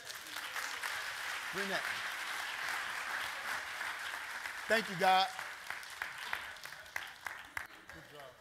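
Clapping from a church congregation runs throughout, moderately loud and steady, while a voice speaks over it and a few short excited shouts rise from the crowd.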